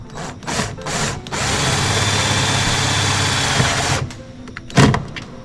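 A power drill drives a screw into a camper van's mosquito net, whirring steadily and loudly for a few seconds after short bursts, then stopping, with a brief clatter near the end.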